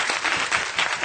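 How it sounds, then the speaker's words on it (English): Audience applause for a university president at an NCKU event, a dense, steady wash of many hands clapping that fills the whole moment at fairly close range. "let's give another round of applause to our president"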